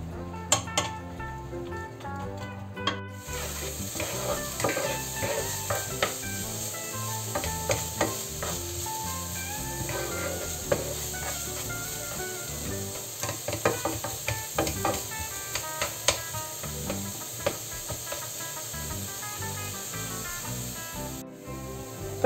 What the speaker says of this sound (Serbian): sada ćemo pržiti luk i šargarepu